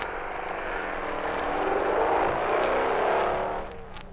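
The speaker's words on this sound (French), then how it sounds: "Et parfois le départ en trompe de la moto de l'employé d'au-dessous." A neighbour's motorcycle starting up at daybreak and revving, a broad engine roar that swells to a peak around midway, holds, then fades off as it pulls away, heard alone without voices.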